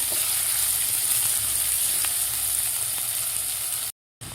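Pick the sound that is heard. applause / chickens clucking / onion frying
onion frying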